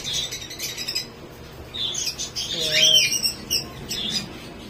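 Many birds in an aviary, including medium-sized breeder birds, chirp and squawk together in a busy overlapping chorus at close range, with a louder call near the middle.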